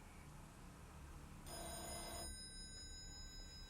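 A telephone bell begins ringing partway through, a bright trilling ring over quiet background hiss, following a soft muffled stretch.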